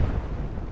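Naval gunfire in the Atlantic Fleet video game: a brief, muffled low boom and rumble from a distant salvo, fairly faint and heard alone.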